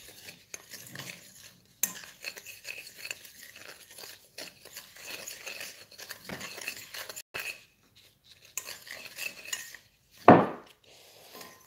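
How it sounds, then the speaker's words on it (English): Ribs with ginger juice and Asian spice seasoning are tossed in a big bowl, giving soft wet stirring along with scattered clinks and scrapes against the bowl and a sharp knock near the end. "So all you need to do is to mix everything in a big bowl."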